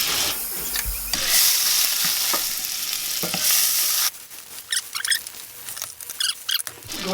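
Vegetables sautéing in browning butter in a pan for crawfish enchiladas, a loud close hiss and crackle with stirring scrapes and patter.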